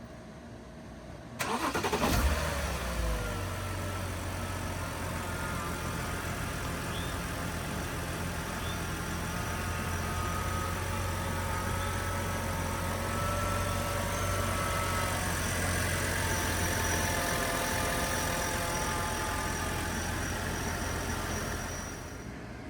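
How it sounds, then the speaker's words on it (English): A 2007 BMW 328i Coupe engine cranks briefly and catches, then settles into a steady low idle that hums on for the rest of the clip. "I'm gonna go turn the car on"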